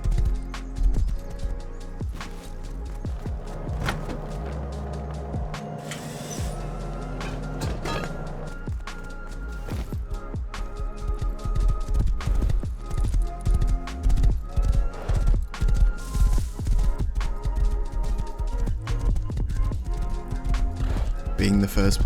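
Horse hooves in the video game Rust, a galloping clip-clop that builds into a rapid, steady beat, close and loud, with a narrator talking over it.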